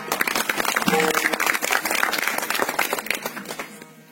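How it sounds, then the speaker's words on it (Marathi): Men in a kirtan audience clapping loudly together, a dense burst of applause that swells, holds for a few seconds and then fades out. "पुरुष मंडळ सर्वांनी एकदा जोरदार टाळ्या वाजवा"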